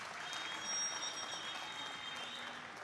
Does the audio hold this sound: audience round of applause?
yes